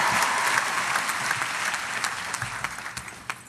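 A commencement crowd bursts into loud, sustained applause, packed hand-claps washing over the room and thinning slightly toward the end, with no clear speech on top.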